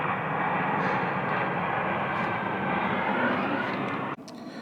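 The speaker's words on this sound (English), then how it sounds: "Sorry, there's a plane passing." A fixed-wing airplane passing overhead outdoors on a residential street, a loud steady broadband engine roar filling the clip before cutting off abruptly near the end, with no talking.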